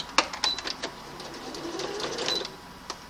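A household sewing machine with an automatic thread-cutting function runs a short test stitch: a quiet, brief mechanical whir with light ticking clicks, faint and close.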